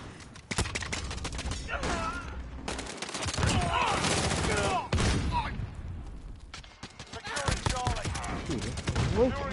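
Dense, continuous gunfire and explosions from an online PS4 match of Shoot the Ship, including sniper rifle shots, loud and chaotic with overlapping bursts and voices in the mix.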